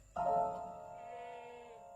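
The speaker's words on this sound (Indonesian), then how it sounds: "Pak, kambingnya berisik, Pak." A goat in a pen lets out one long, wavering bleat that starts abruptly and trails off slowly, fairly close and alone against a quiet night backdrop.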